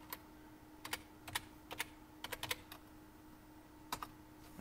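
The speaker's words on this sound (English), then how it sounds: "Go up to the search bar and type in www.blackrain." Fingers tap a computer keyboard in short, quiet bursts of distinct clicks with gaps between groups, close up against a faint steady hum.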